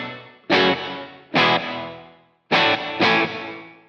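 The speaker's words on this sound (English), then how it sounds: "I could actually hear like the repeats creating the reverb" A 1980s Yamaha multi-effects processor on a reverb setting with audible repeats: four loud, sharp-attacked notes or strums, each followed by a bright, quickly decaying echoing tail, with pauses between them.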